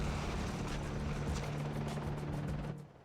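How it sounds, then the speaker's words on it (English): A helicopter in the PS2 video game Cold Winter: a close, loud, steady rotor drone with a rhythmic beat and a low hum, fading out in the last half-second. "Need to take out that heli."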